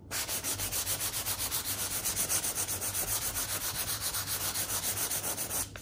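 Sandpaper rubbing quickly back and forth over a scratched leather surface, a steady rhythmic scratching of even strokes, close and fairly soft, with no talk.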